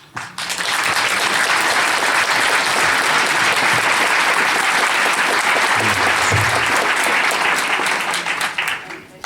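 Sustained audience applause fills a hall after a talk on Christian faith. It is loud and dense from start to finish and fades only slightly at the very end.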